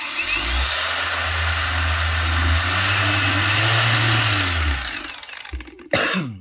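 A Wakyme 20 volt cordless angle grinder spins up with a loud, steady motor whine that holds for several seconds and then winds down, ending in a brief clatter.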